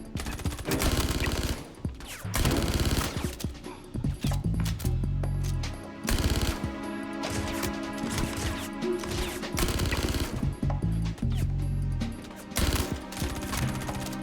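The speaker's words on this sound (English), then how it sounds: "a little tip for you while using this pistol is, to burst shot it" Gemini LH86 pistol firing in short bursts in Star Citizen, loud sharp volleys repeating in clusters over game background noise, with no talk.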